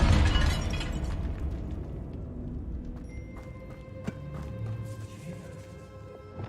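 Confringo fire spell blast in the Hogwarts Legacy video game, set in a tomb: a loud burst at the start that decays into a lingering rumble with scattered crackles and small pops, and no talking.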